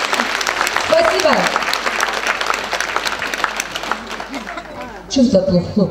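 Concert audience applauding in a hall after a Russian folk song, steady dense clapping throughout with some voices and a louder burst near the end.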